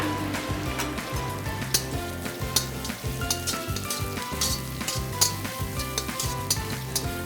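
Curry leaves crackle and sizzle in hot oil for a raw mango (mavinakayi) dish, a steady close frying hiss throughout with rhythmic music playing underneath.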